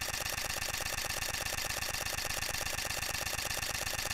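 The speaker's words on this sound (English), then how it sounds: "So this is the sound of the Canon R5 tracking a moving subject in high-speed continuous and shooting RAW and JPEG large." A Canon R5 mirrorless camera fires its shutter in high-speed continuous mode, shooting RAW plus large JPEG while tracking a moving subject. The clicks come as a fast, evenly spaced rattle that holds steady for several seconds, with no voices.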